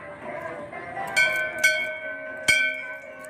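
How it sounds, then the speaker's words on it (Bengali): A metal temple bell rings with a sustained tone, struck three more times in quick succession, each strike leaving a shimmering, lingering hum. "চলো এই ঘন্টাটা বাজিয়ে দিই"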